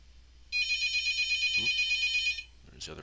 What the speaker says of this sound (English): I have it on the old school ringtone